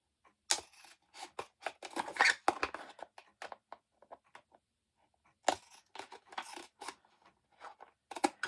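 Scissors cutting straight down through a washed and dried container to make a woven basket, a series of crisp snips and crunches in two bursts separated by a quiet pause, close and fairly soft.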